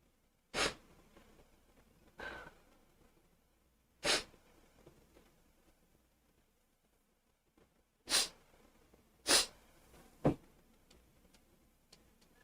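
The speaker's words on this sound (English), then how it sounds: "I sneezed. That was really dramatic." A person sneezes dramatically several times, sharp close bursts spread across a quiet room with breathing and sniffs between them.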